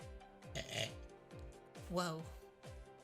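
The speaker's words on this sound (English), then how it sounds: "That was a really big burp" A loud, drawn-out burp rumbles up close in a few throaty pulses, with a voice around it.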